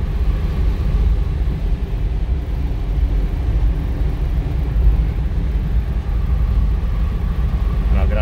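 A 1963 Oldsmobile Jetfire Turbo Hardtop cruising at about 55 mph gives a loud, steady low rumble of engine and road noise, heard from inside the car with no change in pace.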